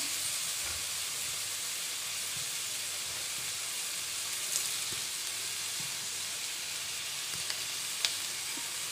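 Onions and tomatoes sautéing in a pan for a bitter gourd curry give a soft, steady hiss with faint spatters, quiet and continuous, with no one speaking.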